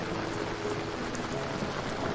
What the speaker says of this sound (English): The soft rain continues to fall